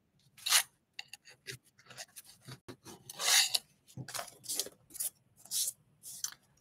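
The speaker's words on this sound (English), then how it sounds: "And I'm also going to go in with my sander too." Close, dry rasping strokes of a sander on a wooden angel-wings-and-cross craft piece, irregular bursts of scraping with brief pauses between them, no talking.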